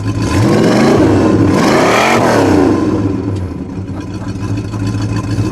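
A 1970 Plymouth Road Runner Superbird with a 440 engine revs up loudly and close, swelling to a peak and falling back to a rough, steady idle, with no talking.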